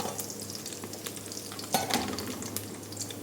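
Onion and potato frying in a pan while being stirred for an economical meat stew; a soft, fairly faint sizzle carries scattered scraping and clinking stirring strokes.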